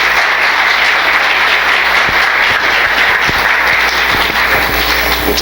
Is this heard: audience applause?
yes